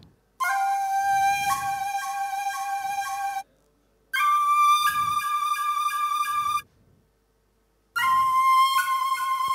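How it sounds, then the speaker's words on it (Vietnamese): Sampled flute notes played on a Korg Kross 2 keyboard in three separate phrases, each a few seconds long with short melodic steps, separated by silence. "Và đây chúng ta có được tiếng sáo"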